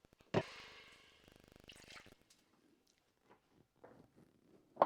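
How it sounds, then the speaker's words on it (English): Water is tipped from a container into a cooking pot for a Jamaican steamed fish stew, giving a short splashing pour followed by a few faint drips and small kitchen clatters nearby. "I tip a little water in there."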